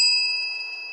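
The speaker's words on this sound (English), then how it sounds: "And I'll ring my bell whenever I'm inspired." A small hand bell rings once, a bright, clear metallic ring that starts loud and slowly fades over about a second, heard alone.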